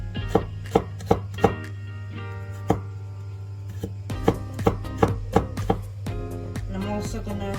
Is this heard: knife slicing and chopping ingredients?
yes